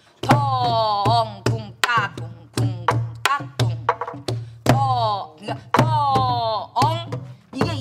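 A Korean sori-buk drum is struck in the jungmori rhythm, with sharp close thunks and taps in a steady pattern, accompanied throughout by a singing voice that vocalizes along with the strokes.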